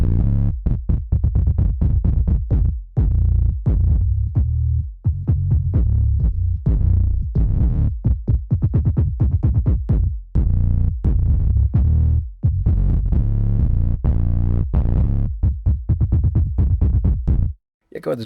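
Synth bass from the ujam SubCraft plugin plays alone, a loud, deep pulsing pattern of short, punchy notes that shifts in tone as its Grand Pad position moves across the hexagons.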